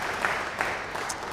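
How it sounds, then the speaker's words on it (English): A short burst of applause in a church, many hands clapping together in a dense, continuous patter of moderate loudness. "I think that alone deserves a round of applause."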